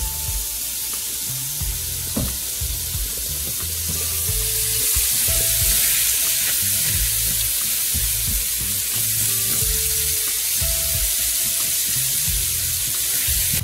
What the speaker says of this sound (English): With the onions and peppers, you don't want to saute these too hard. You really want to just sweat the vegetables.